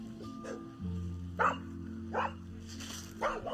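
A dog gives a few short barks, spaced about a second apart, over a constant low hum, moderately distant.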